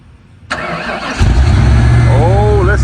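Ford F100 truck engine cranks and catches, then settles into a loud, close rumbling idle with a brief revving surge near the end, while people talk over it.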